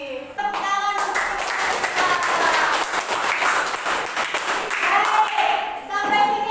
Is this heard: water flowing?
no